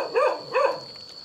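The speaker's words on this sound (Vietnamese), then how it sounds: "Con chó điếc tai đấy nhỉ" A dog barks twice, loud and close, in two evenly spaced sharp barks over a quiet background with a faint steady whine.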